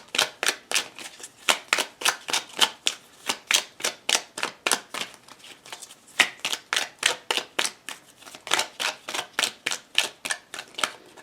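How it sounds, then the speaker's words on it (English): Lenormand cards are shuffled and drawn in a steady run of crisp, close slapping flicks and riffles, repeating rapidly for several seconds with only brief pauses. "Let's pull some more cards."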